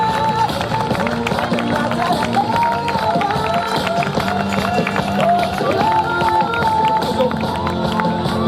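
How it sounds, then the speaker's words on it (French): A crowd at a Salers cattle show trophy presentation in Aurillac claps and cheers loudly and continuously, with voices and babble mixed through the applause. "je crois qu'on peut applaudir très fort pour la remise de ce trophée"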